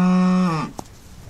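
A cow gives a single loud, drawn-out low moo close by that ends abruptly, followed by a brief knock and quiet background.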